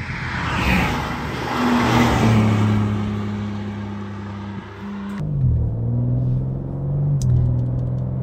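A powerful BMW M car engine roars steadily and builds as it revs up, then drops briefly and resumes with a deep, rumbling drone.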